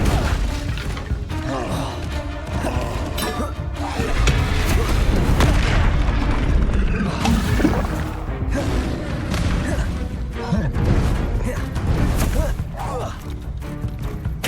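Confringo fire spells detonate repeatedly in Hogwarts Legacy combat, a dense run of heavy booms and crashing impacts that roll on almost without pause under a constant wash of battle noise.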